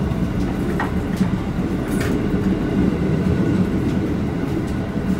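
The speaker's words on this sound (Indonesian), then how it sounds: "KRL Solo Yogya akan segera tiba di stasiun akhir Solo Balapan" A KRL Solo–Yogyakarta commuter train rolls into Solo Balapan station with a steady, loud rumble, clattering wheels on the rails and a few faint squeals, heard from close by without talk.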